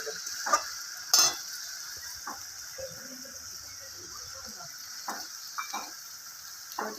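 Onion and chili paste frying in a pan for a Bengali fish jhal chorchori, a quiet, steady sizzle with a few soft stirring clinks.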